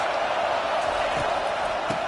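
Stadium crowd roars throughout a college football game between Georgia and Auburn, a steady dense wash of noise with no distinct cheers rising out of it.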